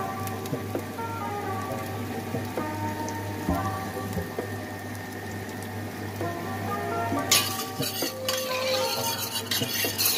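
Garlic dropped into a hot pan with a little non-standard oil, sizzling and crackling steadily at close range, building to a louder, busier burst of frying and stirring near the end.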